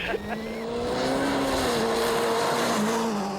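A World Rally car runs hard on a rally stage, its engine droning and rising steadily up close, with a faint tire squeal near the start and loud motor noise throughout.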